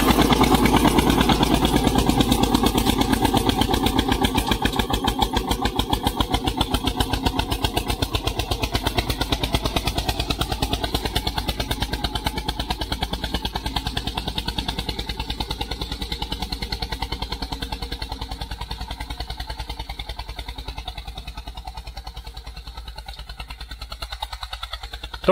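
An Eicher 241 tractor engine pulling a cultivator through soil, a steady, loud, rapid diesel thumping that holds for the whole stretch and slowly fades as the machine moves away.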